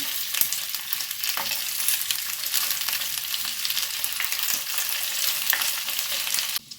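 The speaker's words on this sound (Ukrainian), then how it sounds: "Перевертаю і обсмажую з іншої сторони. Смажу на великому вогні." Pork belly sizzles and crackles steadily in a hot pan over high heat, a continuous loud frying hiss with occasional pops and a brief stir near the end.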